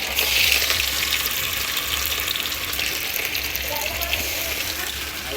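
Fish slid into a pan of hot oil to fry gives a loud, continuous hiss and sputter right up close, holding steady throughout with only slight swells.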